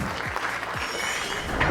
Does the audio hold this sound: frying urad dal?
no